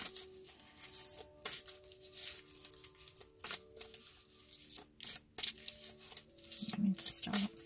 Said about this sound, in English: So I'm going to do that after I shuffle and mix the cards really well.